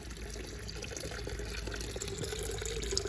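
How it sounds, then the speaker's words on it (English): A formal fish pond fountain sprays water out of its side and top, giving a steady, close, even splashing and trickling with no break and no voices. "this one here shoots a little bit of water out the side here, and it shoots a little bit of water out the top"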